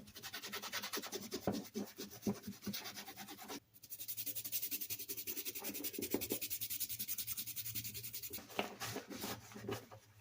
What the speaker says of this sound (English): I'm just getting the gunk off the outside with one of these